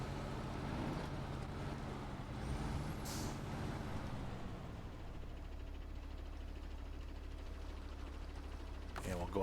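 Mercedes Zetros truck in the SnowRunner video game, a loud hissing air brake release over a steady diesel engine rumble, with a short rising whistle partway through.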